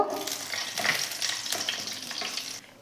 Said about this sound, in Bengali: আমি কাজু আর কিশমিশটা দিয়ে একটু ভেজে নেব।